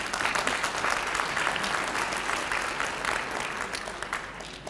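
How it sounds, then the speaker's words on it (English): A conference audience at a People and Parks gathering applauds a minister with steady, dense clapping that fills the room without a break. "I think we must give her a round of applause."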